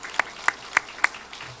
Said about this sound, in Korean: 우리 다시 한번 하나님께 영광의 박수 올리겠습니다